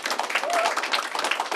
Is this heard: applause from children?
yes